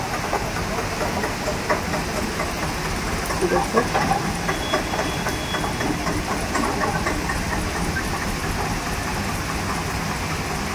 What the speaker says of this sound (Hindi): बारिश में कोई ट्रैक्टर देखे आया है और देखो ट्रैक्टर कैसे जाएगा पानी में